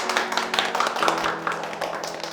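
Applause from a group of children at a Korean Day class event, congratulating a gift card winner: continuous dense clapping, fairly loud and close, with little talk.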